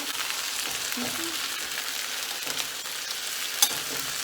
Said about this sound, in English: I've now added the other vegetables, so now I'm gonna mix it in with my right hand